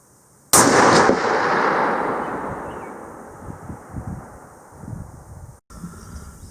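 A single sharp rifle shot from a fairly hot load with a 165 grain bullet, close and loud, its boom rolling out across open ground and fading slowly under wind noise.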